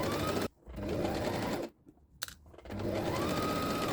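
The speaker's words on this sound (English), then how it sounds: "I sewed that on my machine using a single stitch" A sewing machine runs a single stitch along fabric seams in close, quiet bursts of rapid whirring, stopping briefly between runs before starting again, with no talking.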